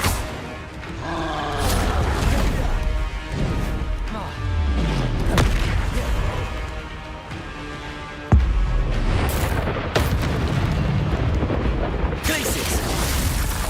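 Incendio fire spell cast in the video game Hogwarts Legacy: roaring, crackling fire bursts and booming impacts in dense succession, with a sharp hit partway through and voices speaking over the game sounds.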